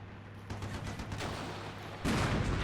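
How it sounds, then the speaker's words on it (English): A machine gun fires in the wargame Armored Brigade 2, with rapid, fairly faint bursts of gunfire over a low hum. A louder, denser burst of fire comes near the end. "The machine gun."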